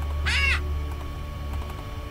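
One short bird caw rings out in the Ultimate Custom Night video game, followed by faint clicks over a low, steady hum.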